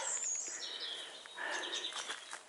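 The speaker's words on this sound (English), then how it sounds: "Just listen to the dawn chorus." A faint dawn chorus on a December morning walk, with several birds chirping and trilling at a distance in a quiet, open outdoor setting.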